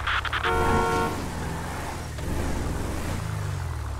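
A car horn honks inside the video game GTA 5, a loud sustained blare at the start over a constant engine and road rumble that carries on after the horn stops.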